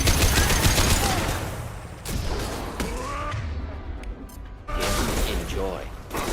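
Bursts of rapid gunfire crack through a Mass Effect 2 firefight on Illium, loud and close, with whooshes and clatter, while game voices call out over the shooting.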